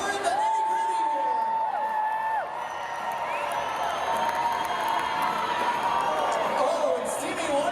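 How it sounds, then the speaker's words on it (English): A roller derby crowd cheers and whoops loudly, sustained shouting with whistles and voices blending into a continuous roar under an announcer's speech. "Whoever you're cheering for tonight, make some noise."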